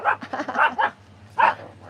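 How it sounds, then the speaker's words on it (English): A dog barks in a few quick bursts close by on a porch, the barks clustered early then one more after a short pause. "They're so used to him barking, they just wave."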